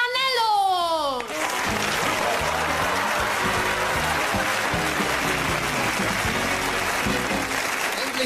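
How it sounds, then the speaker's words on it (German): A TV sitcom studio audience bursts into applause right after a rising gong-like tone, loud, dense clapping with cheering that carries on steadily to the end. "ich bitte um einen Tooltime-Applaus für die Flanellos"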